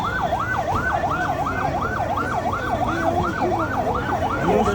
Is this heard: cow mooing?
no